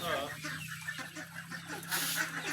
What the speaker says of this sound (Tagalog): Ito yata yung tinatawag nilang Chinese chicken.